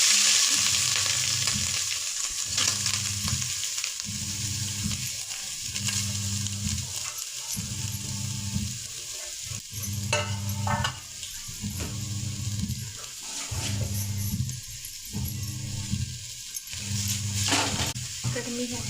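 A coconut barfi mixture of grated coconut and ghee is sautéed in a pot with repeated rhythmic scraping strokes of a spoon. A steady sizzle and a low pulsing hum run underneath, and no one speaks.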